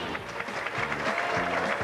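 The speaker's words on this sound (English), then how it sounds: "The applause originating at the Carrier Lanes" Crowd applause at the Carrier Lanes during a 1997 professional bowling championship match, a steady wash of clapping with low tonal hum underneath, moderately loud and continuous.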